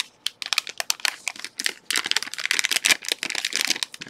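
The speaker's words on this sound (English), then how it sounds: "So this is the same type of ESD bag" Dense crinkling and crackling of a plastic ESD bag being handled, irregular bursts of crisp rustle close by with brief pauses between.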